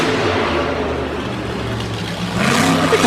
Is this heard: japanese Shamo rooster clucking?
no